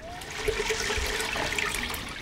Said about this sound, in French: le bruit des vagues dans la rivière